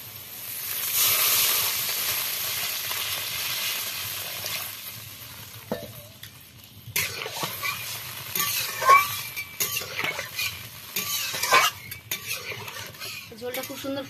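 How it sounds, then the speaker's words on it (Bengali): Water hits fried potatoes in a hot pan for a Bengali tangra fish and mustard dish. It hisses loudly for several seconds, then gives way to stirring scrapes and utensil clinks against the pan. "আর ভাজা হয়েছে, এবার জল দিয়ে দেবো।"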